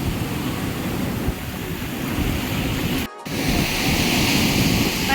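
Sea waves wash along the shore in a loud, continuous roar mixed with wind, briefly dropping out for a moment midway before the surf noise resumes.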